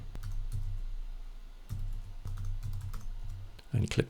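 Someone fills out a form in a web application on a computer keyboard, producing quiet, irregular key clicks in short runs, with a brief louder noise at the end.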